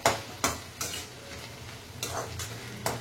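Mint and coriander leaves sautéing in a pan for chutney, soft steady sizzle broken by several sharp scrapes and stirring taps of a spatula at irregular intervals, close up with no talk.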